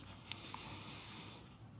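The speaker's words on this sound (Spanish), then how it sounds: "Podemos ir retocar con el lápiz un poquito para que se ordene un poco." Pencil shading on paper, retouching a grayscale blended drawing: a soft, continuous scratchy rubbing close up, faint and steady for under two seconds, with a couple of tiny taps.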